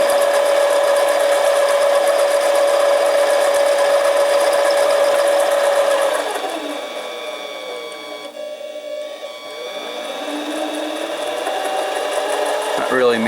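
A Harbor Freight 7x10 mini lathe cuts aluminum tube, making a loud, steady whining tone that drops away partway through and gives way to a rougher, lower machine whir.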